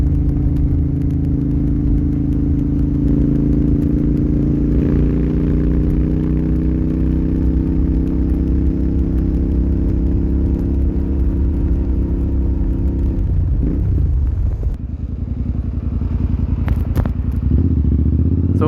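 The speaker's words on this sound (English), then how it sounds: "The sound of this engine is absolute music." A Royal Enfield Continental GT 650 motorcycle, British Racing Green, its twin engine running loud and close with a steady throbbing rumble, rising gradually before the revs drop and it settles back to a lower idle-like hum.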